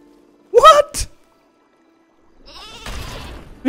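Cartoonish sheep bleats from Worms W.M.D, the sheep swinging on a ninja rope, short and sharp with gaps of silence and some scraping or rushing noise in between.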